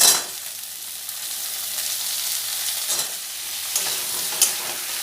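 Large-cut eggplant pieces frying in a pan, a loud sizzling hiss that swells and crackles as they are stirred, with scraping and a couple of light utensil knocks.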